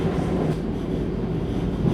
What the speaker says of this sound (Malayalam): ട്രെയിൻ തൃശ്ശൂർ സ്റ്റേഷനിലേക്ക് അടുക്കുന്നു.